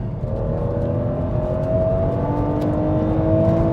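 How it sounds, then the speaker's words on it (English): Engine of a BMW Z4 M Coupe climbing steadily through the revs, a loud, close, smooth tone rising in pitch over nearly four seconds, heard alone without talk. "It is a spectacular engine that revs so easily."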